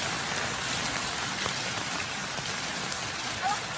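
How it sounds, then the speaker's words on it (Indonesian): Steady rain falls without a break, a dense, even hiss of drops on a surface that stays close and constant from start to finish, with no voices over it. "Udah tahu hujan."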